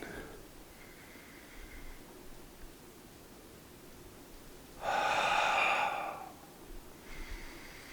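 Quiet breaths go in and out slowly during tai chi qigong exercise, with one louder, longer exhale in the middle, close and soft.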